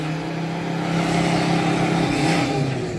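A car engine revs hard and close, with a strained, continuous roar that climbs and holds for several seconds without a break and no talk over it.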